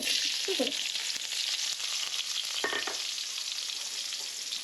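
Ingredients fry in coconut oil for biryani, giving a steady close sizzle throughout with a couple of brief stirring scrapes.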